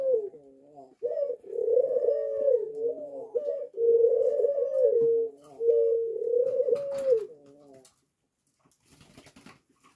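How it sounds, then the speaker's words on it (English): A ringneck dove coos close by in a series of rolling, repeated calls for about eight seconds before fading to quiet rustling. "she's cooing over it"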